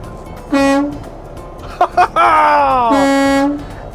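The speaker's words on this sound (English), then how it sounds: "pulling the air horn" A loud semi-truck air horn blasts close by, first a single honk, then a couple of short bursts and a long sustained blare.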